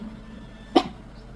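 A single short cough bursts out once at a casual birthday meal, fairly close and clear against a quiet room, then fades with no other voices.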